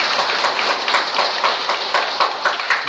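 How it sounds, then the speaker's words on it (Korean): A church congregation claps during an Easter Sunday Mass, producing dense, steady, fairly loud clapping with a slightly pulsing rhythm and no voices over it. "부활하신 주님께 함께 힘찬 박수를 보내드립시다."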